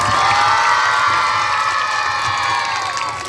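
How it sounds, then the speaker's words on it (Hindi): A large crowd of schoolchildren at a school annual function cheers and shouts together in a loud, sustained, high-pitched roar with some clapping underneath. "जोरदार से ताली बजाओ और तेज"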